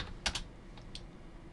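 A few quick keystrokes on a computer keyboard, entering a boot option in Windows XP Pro 32-bit, a short cluster of close clicks followed by two lighter taps, with no talking.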